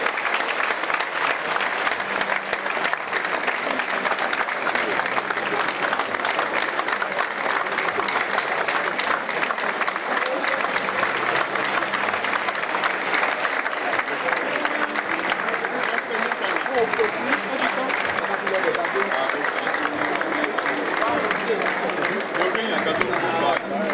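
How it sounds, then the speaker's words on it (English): An audience at an annual lecture applauds survivors of terror and corruption, dense sustained clapping filling the whole stretch at steady volume, with a few voices faintly underneath. "turn to your neighbor and applaud our terror and corruption survivors"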